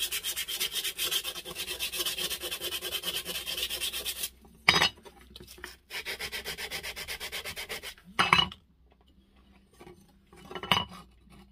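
Sandpaper rubbed over the metal of a Stanley 4 1/2 hand plane during restoration, a steady dense scratching for several seconds, then broken into short bursts of rubbing with pauses between.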